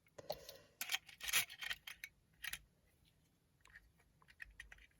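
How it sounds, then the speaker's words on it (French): Scissors cut a paper word out for a junk journal embellishment made from recycled toilet paper rolls, giving a string of sharp snipping crunches, dense at first and then sparser, close and crisp with no talk. "vous prenez vos ciseaux et vous le coupez"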